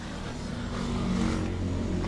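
A car engine idles steadily after warming up, a close, continuous low rumble with an even hum and no voices over it.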